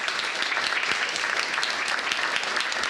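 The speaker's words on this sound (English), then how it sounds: "Round of applause, please." An audience at an open-source community conference applauds after a talk, a steady dense wash of clapping at moderate distance, even and continuous throughout with no speech.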